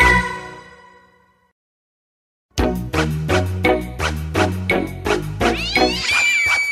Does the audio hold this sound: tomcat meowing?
yes